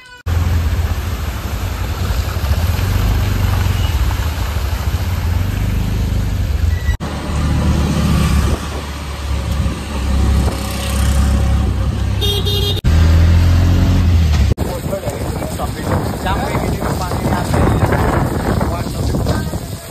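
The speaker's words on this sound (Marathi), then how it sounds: "चला नाना रिक्षा काढला." An auto-rickshaw on a village road near Ambarnath, its small engine droning steadily with heavy wind rush buffeting the microphone and a few abrupt jolts and shifts along the ride.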